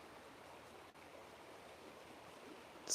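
A river flows steadily in a calm outdoor spot, giving a soft, even rushing wash with no speech and a brief louder swell at the end.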